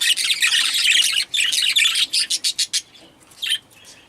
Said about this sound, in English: she'll sit there and make that squawk, squawk, squawk noise at the other hens that she can see in the other cages, and flap her wings in place